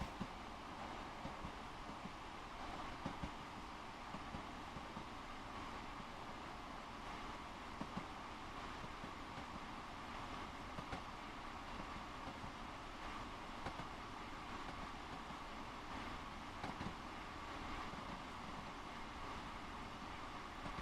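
Train passing on the line in Train Sim World, a steady broad rumble and wind-like rush of rail cars running continuously at moderate level with no voices.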